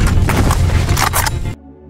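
A loud, dense burst of gunfire in the film Sniper White Raven, several sharp cracks layered over heavy booming noise, cutting off abruptly into a quiet low hum.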